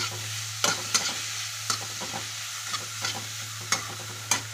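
Fried rice with black pepper being stirred in a pan: a soft steady sizzle broken by about eight sharp spatula scrapes and clacks at an irregular pace, close by, over a constant low hum.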